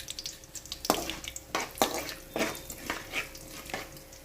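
Mustard seeds, urad dal and fenugreek fry in hot oil with a soft sizzle broken by several sharp pops and spoon scrapes, quiet and close, with no talking.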